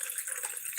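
Warm lemon water poured into a cup, a brief close trickle and splash of liquid lasting under a second with no voices.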